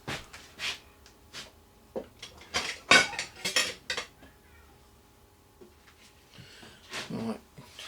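A metal fork clinks and scrapes inside a slightly open container, making a string of short, close clattering knocks with quiet gaps between them.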